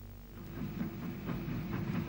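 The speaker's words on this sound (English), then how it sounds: "A pair of Great Northern Q-Class 440s bring a train from Belfast to Derry into Strabane in July 1950." Pair of Great Northern Q-Class 4-4-0 steam locomotives bringing a Belfast to Derry train into Strabane station in 1950, a steady low rumble of rolling stock with faint rhythmic beats, fairly distant and continuous.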